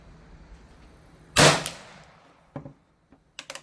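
A single sharp report from an 1884 Springfield Trapdoor rifle firing a 45-70 smokeless powder load, loud and fairly close with a short ringing tail, followed by a few faint clicks and knocks.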